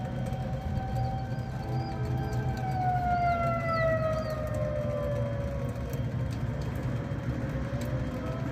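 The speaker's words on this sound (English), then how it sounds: "There goes our tornado sirens." A far-off outdoor tornado warning siren wails, its tone slowly sliding downward, over a constant low background rumble.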